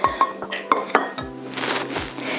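A spoon stirs hot chocolate made with plant-based milk, rapid light clinks ringing against the cup at first, then settling into softer swirling scrapes, close and clear.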